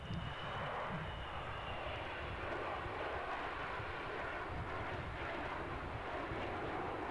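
An aircraft flies past at an air show, its steady engine roar broad and continuous for the whole stretch, fairly loud with no break or talk over it.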